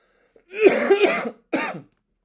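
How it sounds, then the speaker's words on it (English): Two harsh, close-up coughs, the first longer and rougher like a throat-clearing fit, then a short second one, with silence around them. "Sorry about this cough"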